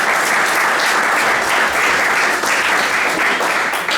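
Audience applauding at a Spanish-language talk on biogas plants, steady dense clapping from a full room sustained throughout, loud and continuous with no voices over it.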